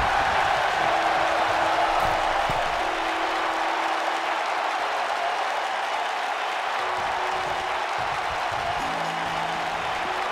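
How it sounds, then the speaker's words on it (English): Steady roar of a wrestling arena crowd cheering and applauding in the WWE 2K19 video game, a dense continuous wash of noise throughout. "by the sound of this crowd, I think they're getting what they wanted"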